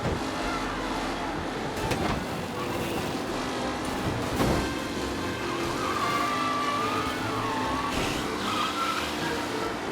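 A race car skids with squealing tires under aggressive driving in Mafia Definitive Edition, its engine roaring steadily throughout, with screeching tire bursts and thumps rising over continuous racing noise.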